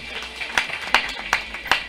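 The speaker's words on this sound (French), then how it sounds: "on applaudit." An audience claps at a wedding ceremony, with a handful of sharp, spaced claps in an uneven rhythm over a faint room background.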